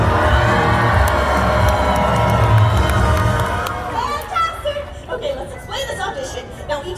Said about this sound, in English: this side of the audience, folks, are going to be cheering on Riley